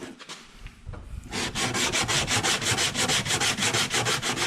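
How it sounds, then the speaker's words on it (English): Hand sanding of a curved body panel on a 2017 Kia Forte with 100 grit sandpaper: a few scattered scrapes, then steady rapid back-and-forth rasping strokes, close and fairly loud. "when you're sanding"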